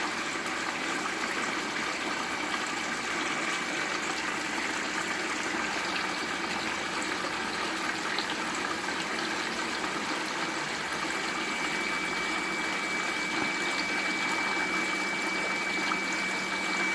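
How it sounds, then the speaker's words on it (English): Water discharging from a cheap homemade gold cube sluice setup pours into a bucket, a constant close splashing rush with a pump-like hum underneath, steady for the whole stretch. "So there's the discharge. As you can see, a bucket's filling up."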